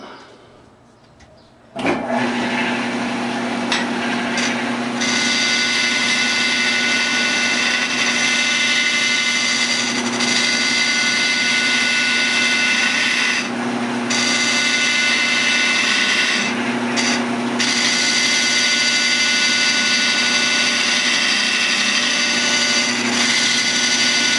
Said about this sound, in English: I'm going to use my David Ellsworth gouge